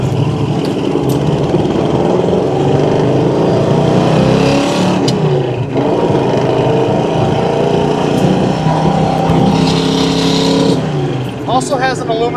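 A 1972 Chevrolet Chevelle driven down a bumpy road, its engine droning loudly with shifting revs and road rumble from inside the car throughout, a few knocks and rattles near the end, and voices talking over it.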